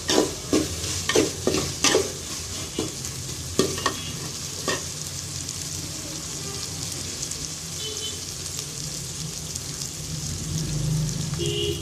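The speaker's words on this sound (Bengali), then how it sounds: "আদা রসুন দিচ্ছি, আদা রসুনটা ভালো করে ভাজা হলে মশলাটা দিয়ে দেবে" Ginger and garlic fry in hot oil for a potato chicken curry. A spoon gives several quick scraping stirs over a bright, rain-like crackle of sizzling that settles into a steady fry.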